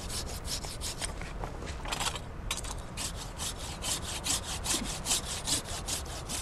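Pruning saw cutting through pear tree branches in a snowy December orchard, steady rhythmic rasping strokes repeating quickly and close by, with no voices.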